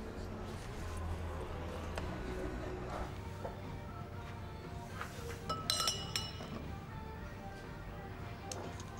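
Glass chinking as it is handled in a domestic scene, a few light clinks clustered near the middle over a low room background.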